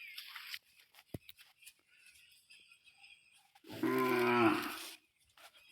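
A cow moos once, loud and drawn out, calling for its calf in open bush, with quiet rustling and soft clicks before it.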